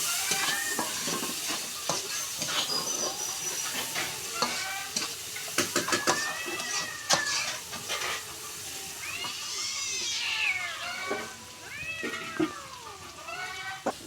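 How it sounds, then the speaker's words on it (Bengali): Cumin, green chilies and chopped onion fry in oil with a continuous sizzle and stirring noise, while a cat meows repeatedly and loudly close by. "জিরা দুটা, কাঁচামরিচ দিলাম, দিয়ে লাল লাল করে ভাজে নিব এখন।"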